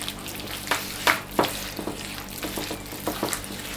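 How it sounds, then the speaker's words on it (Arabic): Sugar, oil and butter are mixed by hand in a bowl for biscuit dough, giving soft, irregular scraping and squishing strokes close up with no talking. "كنخلط مزيان هذيك السكر والزيت مع الزبده على هذا الشكل هذا"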